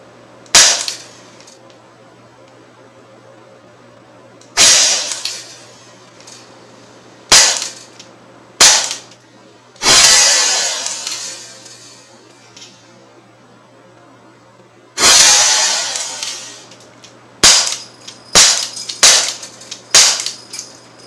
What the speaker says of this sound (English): this will be the last 9 shots up close into my pellet trap